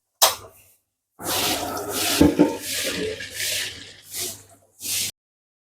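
Patched leaky cooking pot washed and scrubbed by hand under running water, a steady wet splashing and rubbing noise over several seconds, with short pauses and a brief final burst.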